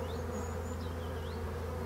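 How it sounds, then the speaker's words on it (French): Honeybees buzz steadily at the hive in a beekeeper's apiary around midday, a dense continuous drone with individual bees whining past up close. "Si vous voulez pas avoir des abeilles agressives"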